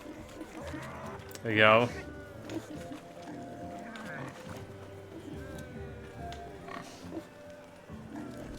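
Pigs grunting and oinking in The Witcher 3, with one loud squeal standing out against steady animal noise, mixed under a man's brief speech.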